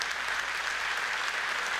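An audience at a Chamber of Commerce morning coffee gathering applauds ballot candidates, a dense, even burst of clapping from many hands that fills the short moment without a break.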